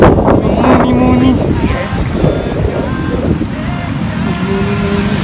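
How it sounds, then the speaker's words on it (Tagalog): Strong wind buffets the microphone outdoors on a breezy day, a steady loud low rumble that runs the whole time, with faint birds and other background sounds mixed in. "Malakas ang hangin."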